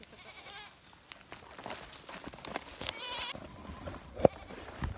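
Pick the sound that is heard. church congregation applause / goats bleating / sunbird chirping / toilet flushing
goats bleating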